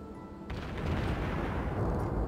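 Heavy naval gunfire from a warship in World of Warships firing armor-piercing shells: a loud boom opens after half a second and rolls into a sustained, rumbling barrage that stays dense to the end.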